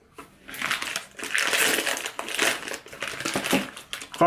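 Crunchy Cadbury gingerbread Christmas biscuit being bitten and chewed up close, giving several loud dry crunching and crackling bursts in uneven succession.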